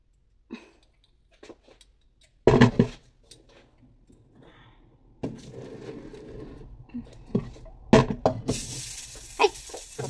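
Hot oil in a kadai sizzles in sharp bursts while chili chicken is cooked at home. Loud spits and crackles flare up between quieter stretches, close by.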